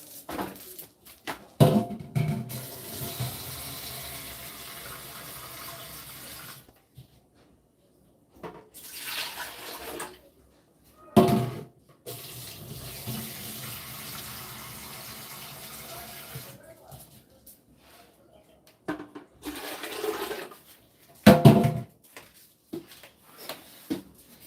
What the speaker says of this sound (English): I put water in the cup.